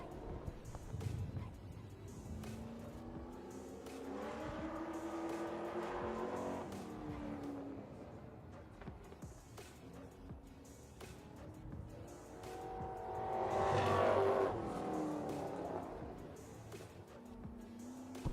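A racing truck circles Orange Show Speedway during a qualifying session, its engine droning and rising as it sweeps past at a distance, with a swell of louder engine noise near the end and faint crowd or announcer sounds beneath.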